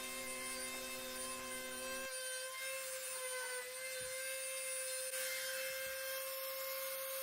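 A Dremel rotary tool whines steadily as it shapes the prongs of a small homemade wooden whisk, a thin high-pitched buzz that changes tone partway through and carries on for several seconds with no voices.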